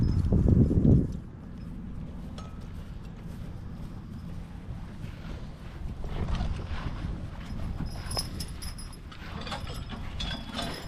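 A grey Percheron draft horse team clip-clops in a steady rhythmic stream of hoofbeats with faint harness and mechanical rattles, opening with a brief loud burst and carrying on at moderate volume without talk.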